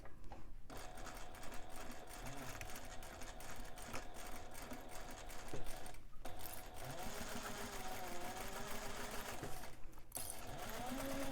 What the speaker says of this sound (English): we're going to sew the bottom seam of the exterior